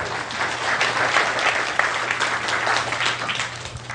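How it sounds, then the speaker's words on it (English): Audience applause for a volunteer at a conversational hypnosis seminar, steady dense clapping from a crowd filling the whole moment, no talking over it. "Give him a round of applause."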